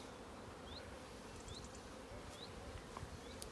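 Honey bees buzz around an open 14x12 nucleus hive during an inspection, a steady close hum with occasional higher whines as individual bees fly past.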